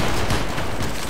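Musket volley fired by a line of soldiers in the Battlegrounds 3 linebattle game, a short dense burst of overlapping shots that lasts about a second, with a faint voice in the background.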